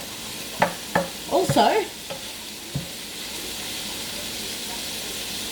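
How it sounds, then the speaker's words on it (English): Lamb mince browns in a pan with a steady sizzling hiss, broken by a few scraping stirs and clatters. A person speaks briefly over the frying. "And the mince is still browning up, which is good."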